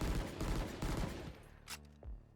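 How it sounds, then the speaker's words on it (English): Automatic rifle gunfire in the shooter game Valorant: a quick burst of rapid shots followed by a couple of sharp clicks and a final report, loud and close. "It's fully auto, so you can control it again to get much better accuracy, and when you ADS, it does switch to a burst fire mode"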